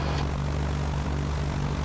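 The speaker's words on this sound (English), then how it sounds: "Wait for these engines to warm up a little bit, and then we're going to run this thing up" Twin engines of a 1980 Cessna 421C warming up on the ground, a steady loud propeller drone with a constant low hum throughout, no talk.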